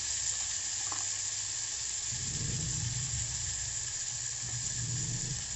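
Spice masala of garam masala, red chilli and turmeric sizzling in hot oil in a pan, a steady close hiss with soft stirring scrapes swelling midway through.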